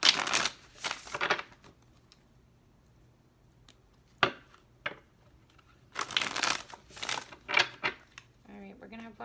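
Tarot cards being shuffled by hand in repeated riffling bursts, with quiet pauses between them and some brief speech near the end.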